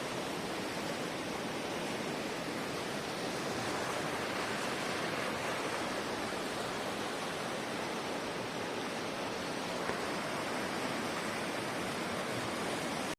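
A swollen river rushes at the Rudraprayag confluence in Uttarakhand. The roar is steady and broad and never lets up, with no voices.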